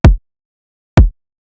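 Two dry kick drum hits, boosted in the mids by EQ and squashed by a Camel Crusher compressor, sound as loud, punchy, close thumps about a second apart with clean silence around them.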